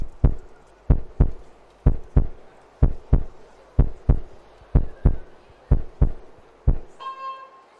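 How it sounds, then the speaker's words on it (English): Heartbeat sound effect played during an archery broadcast of a compound under-21 women's gold medal final: loud, steady, evenly spaced thumps repeating for several seconds, ending with a brief tonal chime. "the tension ramped up by a sort of heartbeat sound there"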